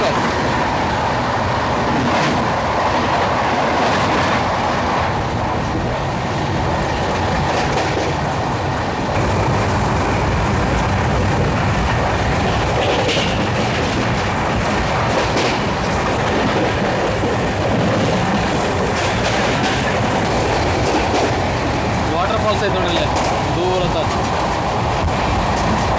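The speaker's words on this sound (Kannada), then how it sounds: "ನೆಕ್ಸ್ಟ್ ಈಗ ನಮ್ಮ ಟ್ರೈನ್ ಜೊತೆ ಕ್ರಾಸಿಂಗ್ ಐತಿ. ಎರ್ನಾಕುಲಮಿಂದ ಹಜರತ್ ನಿಜಾಮುದ್ದೀನ್ ರೈಲ್ವೆ ಸ್ಟೇಷನಿಗೆ ಹೋಗುವಂಥ ಮಂಗಳ ಲಕ್ಷದ್ವೀಪ ಸೂಪರ್ ಫಾಸ್ಟ್ ಎಕ್ಸ್ಪ್ರೆಸ್ ಐತಿ." An Indian superfast express train, the Mangala Lakshadweep running from Ernakulam to Hazrat Nizamuddin, rumbles and clatters steadily past on the Konkan Railway while heard from aboard another train in monsoon season.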